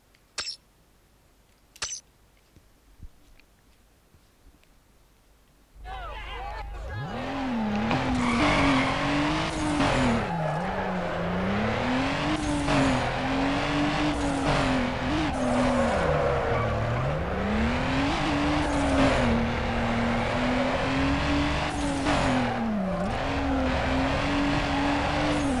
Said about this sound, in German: Ja, das Driften läuft bis jetzt ganz gut.